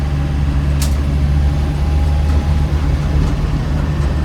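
A 1994 ex-military Land Rover Defender 110 with a 300Tdi diesel engine pulls hard uphill in third gear, a loud, steady low drone with a constant rumble from inside the cab.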